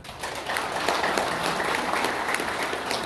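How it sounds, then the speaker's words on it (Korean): An audience applauds at an indoor gathering held in a rented hall, with dense, steady clapping that holds strong and continuous throughout. "박수를 한번 쳐주세요."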